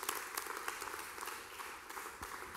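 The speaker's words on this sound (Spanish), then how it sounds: "Le da ese aplauso al Señor." A church congregation applauding the Lord during a service, a faint, distant patter of many hands clapping steadily, with a few sharper individual claps standing out.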